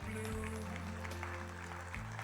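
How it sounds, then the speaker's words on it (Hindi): Audience clapping at the AARAMBH 2024 literary event in Surat, a steady wash of applause heard under a hum of sound-system tones with some voices mixed in. "तो उनके लिए भी ज़बरदस्त वाली तालियां हो जाए।"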